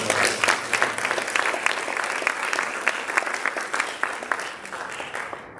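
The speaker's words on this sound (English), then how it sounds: "let's give a round of applause" An evening school district board meeting audience applauds a retiree at a retirement ceremony, a full burst of many hands clapping together that holds steady and then tapers off toward the end.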